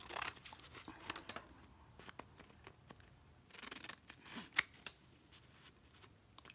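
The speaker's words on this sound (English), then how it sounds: "We're going to cut through the coffee stained paper, or the vintage paper in this case" Scissors snip through coffee-stained vintage paper in a quiet craft setting, a series of faint, irregular crisp cuts and rustles with one sharper snip partway through, and no talking.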